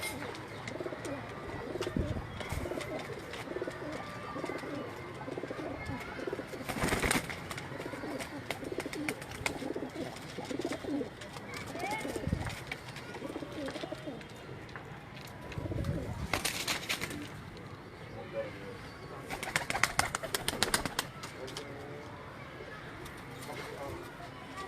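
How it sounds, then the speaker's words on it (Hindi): Pigeons coo repeatedly on a rooftop in New Amarpura, Rawalpindi, soft and close, with occasional wing flaps and louder bursts, while someone talks over them. "उनकी छत से ये कबूतर मैं आपको दिखा रहा हूँ।"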